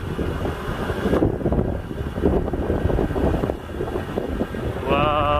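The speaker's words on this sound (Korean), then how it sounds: "바람 많이 분다" Strong wind buffets the microphone during a slow drive along a road on Kohama Island near Ishigaki, a steady loud roar with gusty surges and low rumble throughout.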